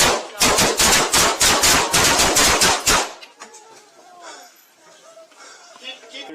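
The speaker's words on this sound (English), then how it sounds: "multiple shots fired" Police body-camera gunfire during a Casper police shootout: a rapid volley of about a dozen loud, close shots over three seconds, followed by quieter muffled movement and faint voices.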